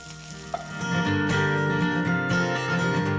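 Chopped Anaheim pepper and shallot with a little salt sauté in a pan, a close sizzle swelling after a brief clink. Music plays underneath.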